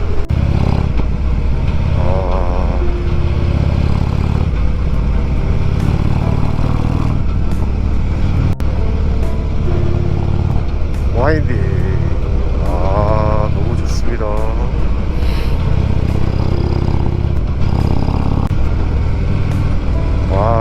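A motorcycle climbs a steep, winding mountain road on Seoraksan in rain and fog, its loud, close engine note rising and falling through repeated revs and gear changes over constant wind rush.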